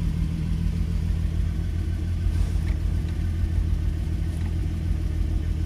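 A turbocharged VR6 car engine idles steadily just after starting, a loud, close, even rumble running without a break, with no voices.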